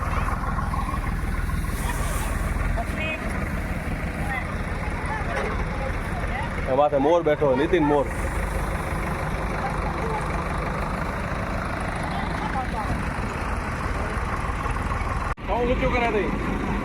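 Tractor engine idling in a village field during a peanut harvest, a steady low rumble running throughout beneath near, continuous conversation.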